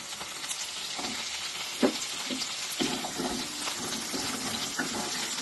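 Capsicum and potato pieces fry in a pan while a home cook makes a paneer and pea curry, giving a steady close sizzle with scattered stirring scrapes and taps and no talk.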